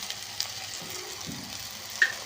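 Spices with garam masala and red chili powder frying in hot oil for dal tadka, a soft steady sizzle with light stirring scrapes and a brief louder clink near the end.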